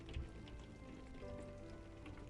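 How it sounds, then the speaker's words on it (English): Gentle rain patters softly outside, a faint, steady spread of tiny drops with no talking. "Every tiny drop landing gently outside, steady, patient, never rushing."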